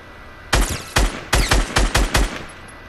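Bursts of SMG fire in a Fortnite Battle Royale match: about seven short, sharp volleys in quick succession, loud and close, with no talking.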